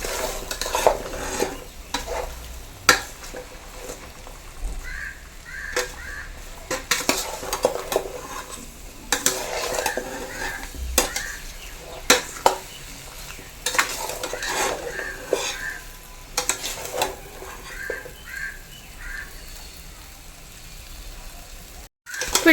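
Sour mango pieces tossed and mixed with salt in a vessel, giving a long stretch of irregular wet stirring, scraping and occasional clinks of a spoon against the container, close and fairly steady, with no talking.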